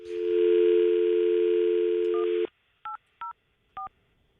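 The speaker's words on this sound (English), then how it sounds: "All right, calling Misty." A telephone dial tone hums steadily for a couple of seconds, then cuts off and gives way to three short, evenly spaced keypad tones as a number is dialed, clear and close with no voices.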